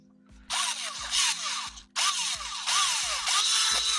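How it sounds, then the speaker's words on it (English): A Dremel rotary tool whines in repeated bursts, close and loud, grinding against a workpiece while action figures are customized, with brief pauses between runs over a steady low electrical hum. "Every time Jared fires up his Dremel."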